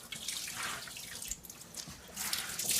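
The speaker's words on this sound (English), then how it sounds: "Okay, so we're going to wring it out." Whey dripping and trickling as farmer's cheese is wrung out by hand, a faint wet splattering and dribbling into a sink, close but quiet, with no one talking.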